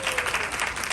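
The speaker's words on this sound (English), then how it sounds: "Can we give them one more round of applause?" Dense, steady applause from an audience at a community gathering, many hands clapping together in a continuous wash of sound, moderately loud and close, with no pause across the brief moment.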